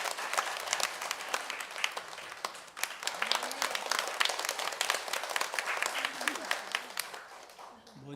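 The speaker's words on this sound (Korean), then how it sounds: "우리 박수 한번 해 주실까요?" A church congregation applauds during a Sunday worship service. The clapping is dense, sustained and fairly even before it fades out, with faint speech underneath.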